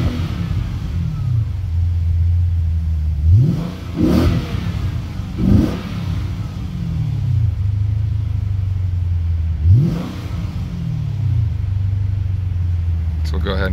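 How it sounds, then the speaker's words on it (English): A 2012 Dodge Charger SRT8 Super Bee V8 with a lumpy cam idles with a deep rumble, then is revved sharply three times, each blip rising and falling back to idle, close and loud. "I'll go ahead and give it a couple revs."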